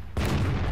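A KV-1 tank cannon fires in the World of Tanks game: one sudden loud blast followed by a rumbling, booming tail.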